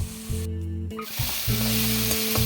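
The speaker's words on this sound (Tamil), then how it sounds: "நமக்கு வேகிற அளவுக்கு நல்லா வதக்கி விட்டுடுவோம்" Tomatoes sautéing in a pan for a cauliflower and potato curry, a steady close sizzle and fry with stirring scrapes through the short stretch, briefly dipping before picking back up.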